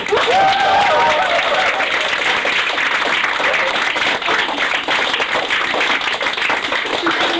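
Theatre audience applauding at a curtain call after a 1997 stage production of Agnes of God, dense steady clapping filling the hall from start to finish, with faint voices threaded through the crowd noise.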